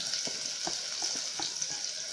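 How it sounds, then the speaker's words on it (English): Onions fry in smoking hot oil for a bean stew, making a steady bright hiss with soft, regularly spaced taps and crackles underneath, close and moderately loud. "When our oil starts to produce some smoke, then we're going to put our onions."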